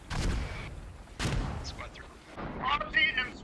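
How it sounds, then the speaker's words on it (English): Mortar and artillery fire in the military shooter Squad, a few heavy booming impacts spaced out over the clip, with faint voices chattering between the blasts. "Those mortars are killing it"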